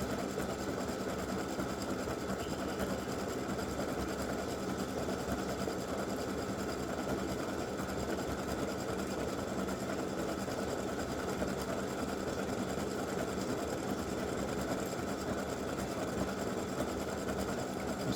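An embroidery machine stitches a free-standing lace pretzel earring design, making a continuous fast, even mechanical chatter at a steady level throughout. No one speaks over it.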